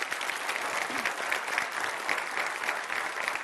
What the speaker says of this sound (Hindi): तालियों के साथ आप सभी का बहुत बहुत स्वागत